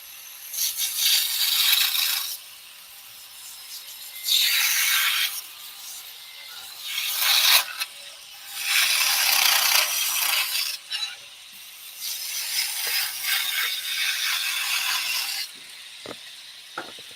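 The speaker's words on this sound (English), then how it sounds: "The other thing that you can do with a skew chisel is actually cut backwards as well." A skew chisel cuts backwards across wood spinning on a lathe, giving repeated bright scraping, rasping passes of a couple of seconds each, separated by quieter whirring gaps, close and fairly clear with no talking.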